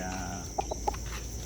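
A few short, soft roundhead gamefowl hen clucks, three quick notes in a row over a steady background hum.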